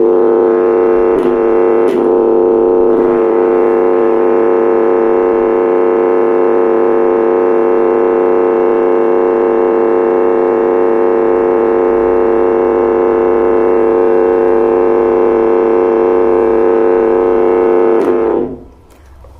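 A steady, loud 50 Hz test tone drones through a home theater speaker for about eighteen seconds, then abruptly cuts off.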